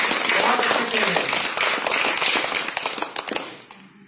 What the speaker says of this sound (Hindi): एक बार दो ताली बजा दीजिए